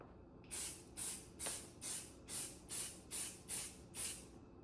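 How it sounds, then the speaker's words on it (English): Eight short hissing bursts of spray paint coating a Sig Cross rifle, in a steady rhythm, each about a third of a second, close and fairly loud against a quiet background. "I'm just going to spray over it"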